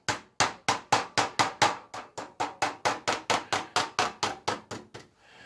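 Hammer striking tin sheet metal while bending it to make a three-piece duct elbow, about twenty sharp, even, ringing blows in steady rhythm, close by, ending in quiet.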